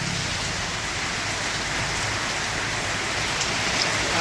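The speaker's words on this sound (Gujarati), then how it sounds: "બહાર અત્યારે ફૂલ વરસાદ પડી રહ્યો છે." A downpour drums steadily outdoors beside a shop, its constant loud rushing wash filling the whole moment without pause or speech.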